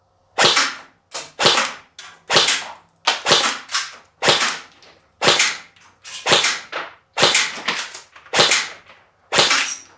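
An Umarex VFC Heckler & Koch HK416C V2 airsoft electric rifle fires single shots at outdoor targets. Each sharp snapping crack is followed by a brief rattle, repeating about a dozen times at an uneven, deliberate pace, loud and close with no talking.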